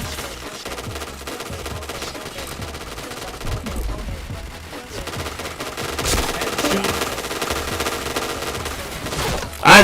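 Dense, continuous automatic gunfire in a shooter video game, loud rattling bursts with barely a break, mixed with faint game sounds and a sharp spike at the end.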